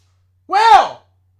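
A dog barks once indoors, a single loud, close, rising-and-falling yap lasting about half a second between stretches of quiet.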